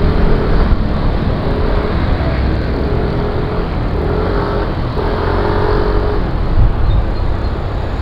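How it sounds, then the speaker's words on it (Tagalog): Road traffic flows around a Yamaha Nmax V2.1 scooter in motion near an intersection, a dense steady engine and road rumble with wind noise, loud and unbroken, no talk. "malumanay ang daloy ng traffic."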